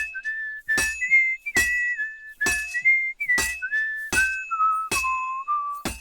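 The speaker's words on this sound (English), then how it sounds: "you'll actually start to whistle songs that you might recognize from the original Kingdom Come Deliverance soundtrack" A character in Kingdom Come Deliverance 2 whistles a melody from the Kingdom Come Deliverance soundtrack, a clear sliding tune close up. Seven sharp clinking strikes land at regular intervals over it.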